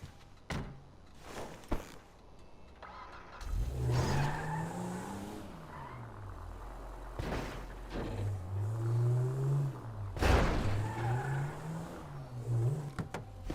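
A car in the video game GTA drives off, with engine roar rising and falling through revs, bursts of tire noise, and a few sharp thumps, fairly close and fairly quiet overall.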